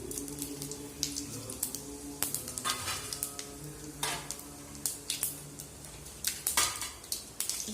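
Mustard seeds and cumin temper in hot oil for kollu rasam, a soft sizzle dotted with quick crackling pops and occasional clinks of a utensil against the pan, fairly quiet and close.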